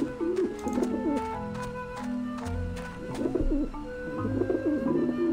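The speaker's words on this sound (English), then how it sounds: "there are a lot of pigeons over here." Pigeons coo in the video game Grim Fandango, repeated rolling coos from several birds close by, rising and falling in bursts over a steady game background with no talking.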